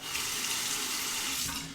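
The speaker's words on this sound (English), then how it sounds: "Under the hot water." Hot water running steadily from a bathroom tap while shaving, a loud, continuous hissing splash close by with no talking.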